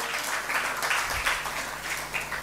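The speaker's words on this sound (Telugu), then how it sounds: "చప్పట్లు కొట్టి దేవుని స్తుతిద్దాం." A church congregation claps in praise during a Telugu fasting prayer service, a steady wash of many hands clapping at a moderate level with no talk over it.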